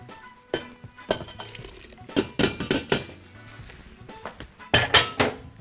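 A spoon scraping and clinking against a metal pot while stirring a simmering sauce for a meat turli dish, irregular knocks and scrapes, close and fairly loud, with soft bubbling underneath.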